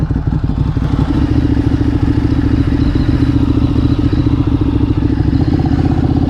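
A Ducati Streetfighter 848 sport motorcycle idles nearby with a loud, steady, lumpy engine rumble that holds for several seconds, a faint clatter beneath it, and no voices.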